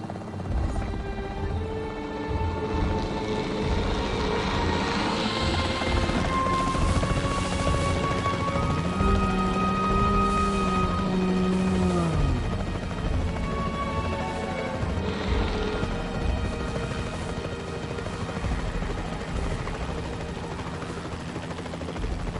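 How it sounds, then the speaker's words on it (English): Capture team helicopter in the video game Jurassic World Evolution 3: a steady, loud rotor drone with a whining engine tone that shifts pitch, continuous throughout with no talk. "The priority needs to be tranquilizing it with the capture team chopper."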